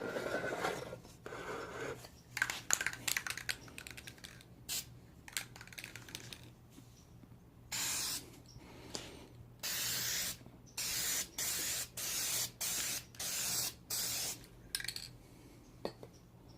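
Krylon satin spray paint hissing onto a car headlight housing in repeated short bursts, each roughly a second long, close and clear, with small clinks and handling noises between the early passes.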